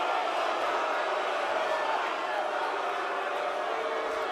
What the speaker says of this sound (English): Listen to them booing the fact that Eva Marie survived.